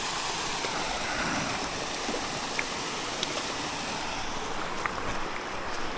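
A small waterfall pours into a trout stream, a steady broadband rushing wash, close and fairly loud, with no voices.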